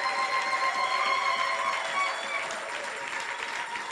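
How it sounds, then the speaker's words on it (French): A church congregation applauds at a Sunday service, a dense wash of clapping that fades somewhat toward the end, with voices calling out over it. "On dirait qu'il n'y a que ce côté qui acclame beaucoup."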